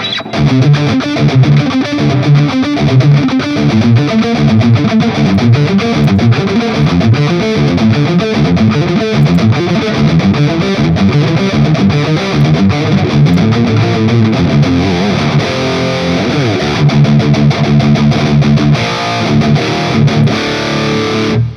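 Distorted electric guitar plays chugging palm-muted riffs through a Redseven D100PRE amp, tight and rhythmic, with occasional ringing chords, loud and continuous.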